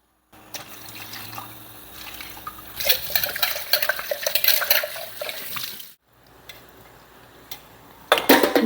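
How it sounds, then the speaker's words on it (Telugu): Water pours into a pot of oil-fried curry, a close, steady splashing gush that swells, cuts off briefly, then resumes more softly with a final splash. "ఇది ఆయిల్లో మంచిగా మగ్గిన తర్వాత కావాల్సిన వాటర్ పోసుకొని బాయిల్ చేసుకోవాలి"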